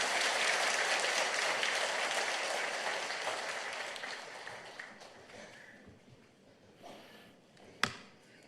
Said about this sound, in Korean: 여러분 한번 힘차게 격려 박수해 주시기 바랍니다.